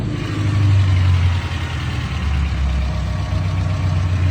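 The engine of a used car, priced around 50,000 som, idles with its hood open, giving a loud, close, continuous low rumble with slight swells in level.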